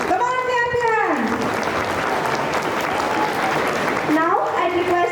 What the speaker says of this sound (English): A huge round of applause, children. Come on, clap your hands.